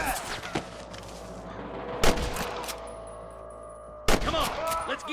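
Gunshots ring out in a Red Dead Redemption shootout, with three loud, sharp reports spaced about two seconds apart over a continuous game background hum and a faint high tone.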